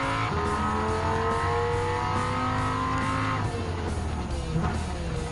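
Genesis G70 Group 4 race car engine in the Gran Turismo 7 video game, a loud steady engine roar with rising and shifting pitch and gear changes, continuous throughout and without talking.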